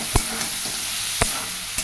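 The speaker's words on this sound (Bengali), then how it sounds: "আলুটাও দিয়ে দিয়েছি আলুটাও ভাজছি" Potatoes and bitter gourd fry in a pan with a constant hiss of hot oil, broken by a few sharp clinks of a spatula stirring, with no voices.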